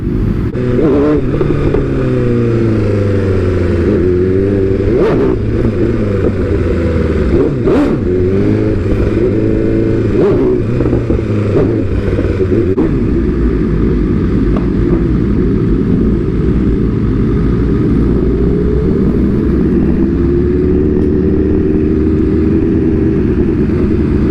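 Many motorcycles rev and rumble at a crowded bike meet, engines blipping and roaring close by in a continuous loud mass, with deeper idling underneath as the throttle bursts fade.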